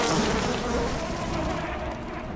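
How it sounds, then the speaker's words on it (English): A swarm of bees drones in the video game Bioshock, a dense, loud buzzing hum that fills the whole stretch and fades slightly toward the end, with no talking. "Alright, my bees left me."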